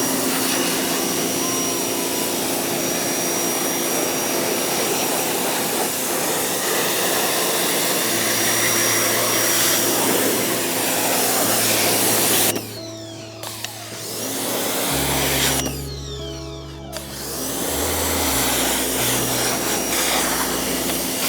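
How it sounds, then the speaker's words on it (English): Pressure washer rinsing a Stark Varg electric dirt bike, a loud continuous hissing spray with a motor hum that briefly drops out twice near the end as the trigger is released. "just take your pressure washer again really quick,"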